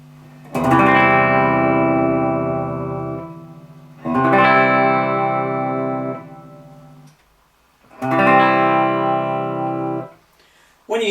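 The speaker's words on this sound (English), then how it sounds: "I've just got this set on reverb" Three sustained electric guitar chords played through a TC G-Force rack reverb, each ringing out with a long reverberant tail before the next, with nobody talking.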